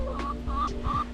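Farm chickens cluck close by in three short, throaty bursts over a low background hum, with no talk.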